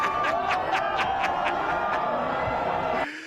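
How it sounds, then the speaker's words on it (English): A large crowd at a political event reacting to House Speaker Mike Johnson, a steady roar of cheering and whooping with rhythmic chant-like bursts, heard as a played recording at moderate loudness. "And the whole crowd cheers."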